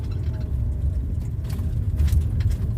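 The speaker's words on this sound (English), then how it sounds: "in the van dealing with this LA traffic" A van idles and creeps through Los Angeles traffic, a low, steady engine rumble heard from inside the cabin, with faint rattles and occasional brief higher noises over the drone.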